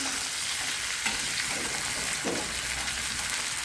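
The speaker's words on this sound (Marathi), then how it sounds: "दहा घेतलेले आहेत काजू ते छान भाजून घेऊ आपण" Ten cashews roast in a hot pan for a matar paneer curry, giving a continuous close sizzle broken by occasional stirring scrapes, with no voices.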